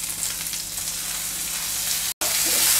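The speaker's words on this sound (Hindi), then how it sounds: "प्याज को हम 2 मिनट भूनेंगे।" Onion and capsicum sizzle in a pan over a medium gas flame, a steady and fairly loud frying hiss that runs throughout, broken by one brief dropout.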